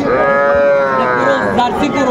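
Cattle and calves at Raniganj cattle market in Dinajpur, one close, loud drawn-out moo lasting about two seconds, with voices around it.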